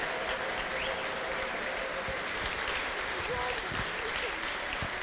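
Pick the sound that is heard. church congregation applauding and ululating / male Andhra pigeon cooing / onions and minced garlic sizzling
church congregation applauding and ululating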